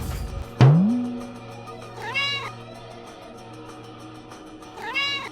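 A loud sharp thump, then a cat meows twice, a few seconds apart, fairly close, with a low steady hum underneath.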